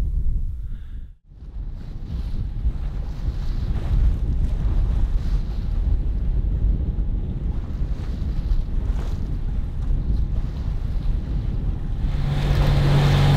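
Wind blows steadily and hard across a small sailboat sailing solo at sea among rocky shores, a constant roaring rush with no talk, briefly dipping near the start.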